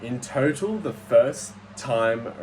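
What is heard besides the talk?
No distinct noise like a dog, phone or traffic.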